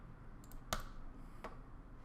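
A couple of faint, quiet key taps on a computer keyboard while entering a value in CAD software, isolated clicks in a near-silent room.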